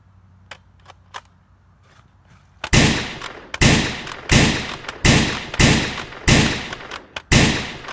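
Gunfire in the video game Fortnite: a few faint pops, then a steady series of about eight loud, evenly spaced shots, each with a decaying tail.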